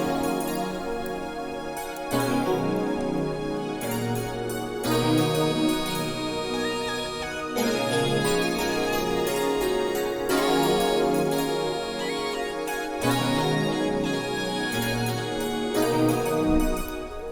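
A beat melody with an XV crystal patch layered over a nylon electric piano in a loose R&B style, playing repeating bright keyboard phrases in looping sections, heard alone at moderate volume.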